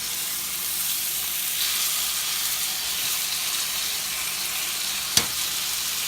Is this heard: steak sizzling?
yes